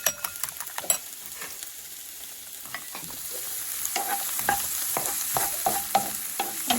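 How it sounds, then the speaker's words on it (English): Eggs whisked for ramen noodles, a rapid run of light clicking fork or whisk strokes against a bowl with a faint background hiss. The strokes are sharp at the start, then quieter and more continuous. "So I'm going to whisk the eggs"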